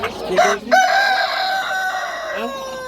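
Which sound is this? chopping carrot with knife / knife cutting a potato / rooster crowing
rooster crowing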